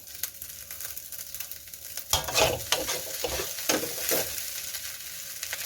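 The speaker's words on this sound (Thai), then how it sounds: "ข้าวผัด ต้องให้ผัดให้มเมล็ดข้าวแห้งๆเด้งๆนะคะ" Fried rice with crispy pork sizzles in a hot pan as a spatula scrapes and tosses it repeatedly, rhythmic scraping over a steady frying hiss, close by.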